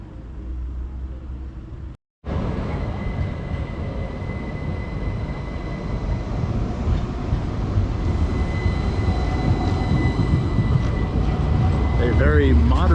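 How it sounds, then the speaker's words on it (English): A modern, new-looking tram rolling into Liberty Square in Timisoara, Romania, a loud steady rumble and whir of the tram passing close by amid street noise, with a brief cutout near the start. "A very modern, new-looking tram that rolls into Liberty Square"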